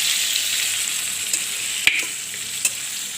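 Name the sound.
meat being fried and stirred before going into pressure cooker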